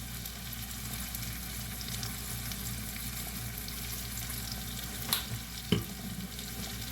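Onions frying in a pan with a teaspoon of oregano, a continuous close sizzle and crackle throughout, with a couple of short utensil knocks near the end and no speech.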